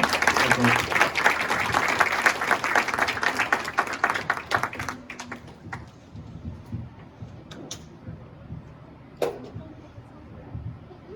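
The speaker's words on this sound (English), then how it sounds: "let's give Sensei Lexi a round of applause" An audience at a martial arts demo event applauds Sensei Lexi. The clapping is strong at first, then thins over about five seconds into scattered individual claps and quiet room noise.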